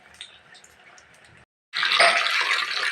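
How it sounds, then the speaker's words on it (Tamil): Bonda balls made from dosa batter drop into hot oil and burst into a loud, steady sizzle after a short quiet pause, close up, with softer kitchen noise before it. "எண்ணெய் கொதிச்சுட்டு அதுக்குள்ள போட்டு பொரிச்செடுத்தா"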